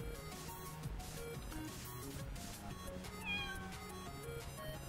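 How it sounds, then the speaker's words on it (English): A cat meows a few times, fairly faint and brief, over a continuous background of game music and ambient noise. "I heard the cat."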